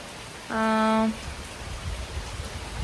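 Steady rain hiss fills the background throughout, with a brief tonal beep or hum rising above it for about half a second near the start.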